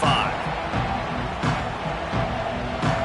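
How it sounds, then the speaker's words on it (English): A stadium crowd in the NCAA 26 college football video game keeps up a steady, roaring buzz after a score, with periodic swells of cheering rising out of the dense wash of noise. "this crowd is buzzing after that last score"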